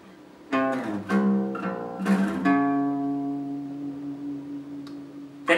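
Electric guitar plays the opening of a riff: a few quick plucked and slid notes, then one sustained note ringing out and fading, close and clear with no talk.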